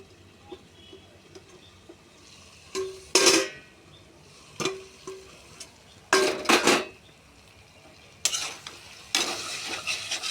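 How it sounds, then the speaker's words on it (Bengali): A lid lifts off a cooking pot of pumpkin stems with sharp metallic clanks and scrapes that come in short bursts, with a quiet simmer between them. "ঢাকনাটা খুলে নিই"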